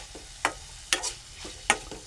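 Onion tempering sizzles in a heated kadhai as a spoon stirs it, with sharp scraping hits at a steady pace over a low frying hiss.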